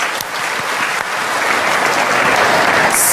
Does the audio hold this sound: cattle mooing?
no